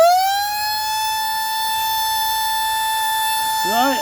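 An all-clear siren sounds one steady, loud, sustained tone that rises briefly at the start and holds evenly, ending with a short warbling rise and fall.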